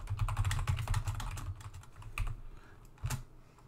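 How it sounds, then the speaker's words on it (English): Fingers type on a computer keyboard, producing a close, steady patter of soft key clicks that trails off into a few sparse taps, with no voice. "now I can just type some text"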